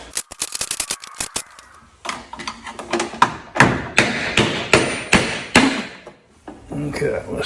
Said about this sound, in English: So I'm going to take it all these bolts out here.